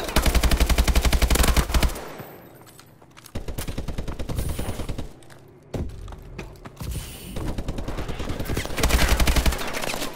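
Automatic AK rifle fire in the Call of Duty: Advanced Warfare game comes as loud rapid bursts with short gaps between them, close and dominant with no talk over it.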